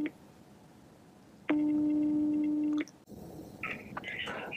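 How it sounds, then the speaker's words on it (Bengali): A phone call ringing unanswered, a single steady electronic ring tone lasting over a second, followed by faint room noise and clicks. "তো রিং হচ্ছে, ধরছে না।"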